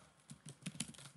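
A URL is typed on a computer keyboard: a quick, faint run of light key clicks in an irregular rhythm, close by, with no voice.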